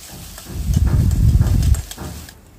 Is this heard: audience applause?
no